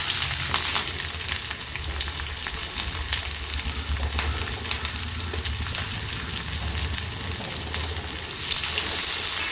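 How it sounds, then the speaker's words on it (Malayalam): Green chilli, ginger and onion fry in a pan over mustard seeds, a steady, close broadband sizzle with crackling pops running throughout, no voices. "അതിനുശേഷം നമുക്ക് ഈ പച്ചമുളകും ഇഞ്ചിയും സവോളയും കൂടി ഇട്ട് കൊടുക്കാം"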